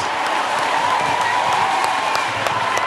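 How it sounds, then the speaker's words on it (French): Worship congregation applauding and cheering in acclaim of Jesus Christ, a dense, steady wash of clapping with scattered sharper claps throughout, loud and close with no pause. "Acclamons."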